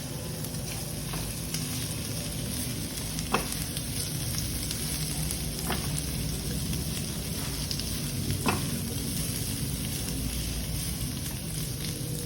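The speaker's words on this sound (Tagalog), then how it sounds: "ilalagay naman natin ang repolyo. ito ay ating hahaluin muli." Cabbage stirred into a frying pan with carrots and chayote, hissing in a steady loud sizzle, with a few sharp scrapes and clacks of the spoon against the pan.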